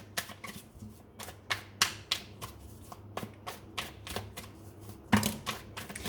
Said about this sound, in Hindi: मैं टैरो कार्ड्स की हेल्प लेकर आपके लिए कार्ड्स निकालती हूँ